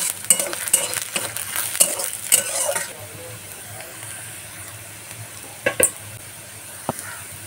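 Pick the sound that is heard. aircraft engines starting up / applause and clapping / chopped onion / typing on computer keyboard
chopped onion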